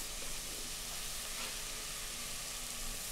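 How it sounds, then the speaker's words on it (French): Onions heat in a pan over the fire, a faint, steady sizzle that holds evenly throughout with no voices. "On ne fait pas pleurer les oignons, on les fait chauffer."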